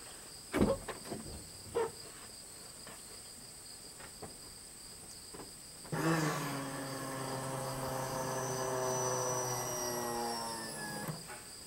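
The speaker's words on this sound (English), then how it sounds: "Tell me if the fuel pump works." An electric fuel pump on a dually truck whirs steadily from about six seconds on, a close continuous hum with a faint rising whine, following several sharp clicks and knocks.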